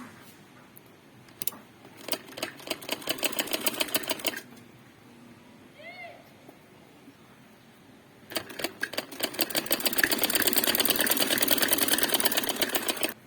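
Sewing machine joining a neckline to a kameez at the very edge: first slow, distinct stitch ticks, a quiet pause, then a longer, faster run of stitching, close and moderately loud.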